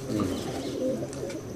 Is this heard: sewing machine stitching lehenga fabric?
no